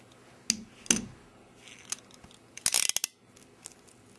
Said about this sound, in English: Ratcheting seems to work fine.